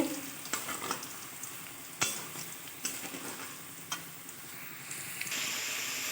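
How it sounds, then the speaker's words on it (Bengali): Sliced bitter gourd frying in oil with salt and a pinch of turmeric, for shukto, gives a steady close sizzle broken by a few sharp stirring clicks and scrapes, with no talking. "উচ্ছেটা প্রায় ভাজা হয়ে গিয়েছে"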